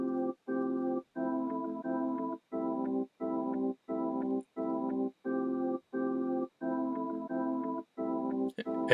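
A looping sliced drum-and-synth beat made in FL Studio's Fruity Slicer and recorded to MIDI repeats in short even chops with brief gaps between them. It plays alone with no talk.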